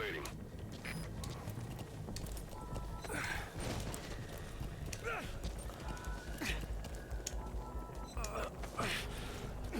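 Horse hooves clip-clopping in Metal Gear Solid V, a run of rhythmic thuds at moderate distance with a neigh breaking through, under game sounds and a player's voice talking.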